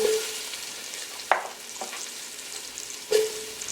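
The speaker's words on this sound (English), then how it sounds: "Turn my heat all the way down to low, and I'm going to go in with an onion," Chopped onion frying in a pot over low heat after browning lamb for a Caribbean lamb stew, giving a steady soft sizzle with a few sharp scraping stir clatters near the start and end, close and moderately loud, no talking.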